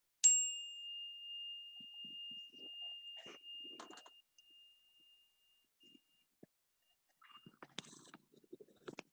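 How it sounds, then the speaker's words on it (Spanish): A meditation bell struck once at the start of a practice session, its clear high tone ringing out and fading slowly over several seconds in a quiet room, followed by faint rustling and small movements. "Voy a marcar el inicio de nuestra práctica con la campana."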